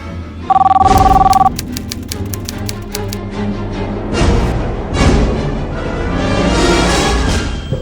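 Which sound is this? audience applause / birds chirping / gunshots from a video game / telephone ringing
telephone ringing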